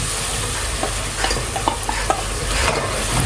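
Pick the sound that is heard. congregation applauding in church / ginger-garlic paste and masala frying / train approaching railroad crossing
ginger-garlic paste and masala frying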